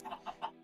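Chickens in the Minecraft video game, three short clucks in quick succession, clear and close with no talk over them.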